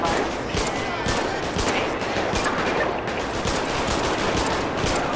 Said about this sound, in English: My boy's shooting blind